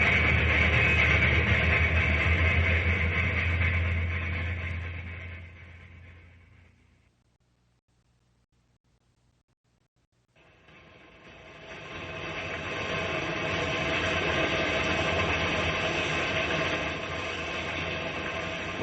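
An old engine clanks and rattles along rails in a rainstorm as a radio drama sound effect, a steady mechanical ratcheting that fades out to near silence midway and then swells back up loud and continuous.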